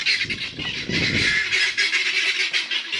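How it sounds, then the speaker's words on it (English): Loud, harsh guinea fowl calls repeat in rapid, overlapping bursts, about nine birds squawking and honking close by with no pauses. "I've got guinea fowl as well, so if you hear annoying bird sounds"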